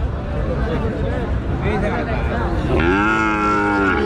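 A cattle moo swells in, loud and close, for a long drawn call at a busy livestock market in Joypurhat, with crowd chatter and voices running underneath.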